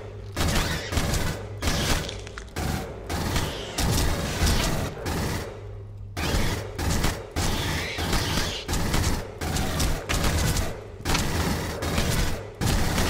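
Dense, rapid gunfire in Aliens: Colonial Marines, fighting in alien-infested sewers, sustained bursts of shots and thuds pounding almost continuously with brief gaps, loud and close.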